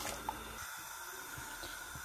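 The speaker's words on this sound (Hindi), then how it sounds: "इसमें मैं थोड़ा गर्म पानी डाल रही हूँ ताकि इसको जल्दी से उबाल आ जाए।" Hot water poured onto lamb liver in a pan or bowl while making kaleji: a steady, quiet splashing and trickling stream that runs throughout, close by and with no talking.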